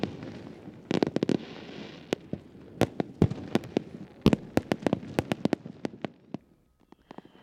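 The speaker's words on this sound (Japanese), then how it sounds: "フィナーレでは直径500メートルの20号の水中花火が披露され、訪れた観客を魅了していました。" A fireworks display over the water at Takahama, with sharp cracks and booms popping in quick irregular bursts, some close together, above a low crowd murmur.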